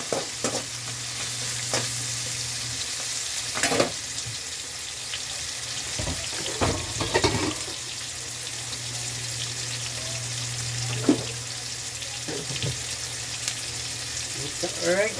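Small pieces of pork chop sauté with vegetables in a pan, a continuous sizzle broken by repeated spatula scrapes and metallic clanks, close and fairly loud.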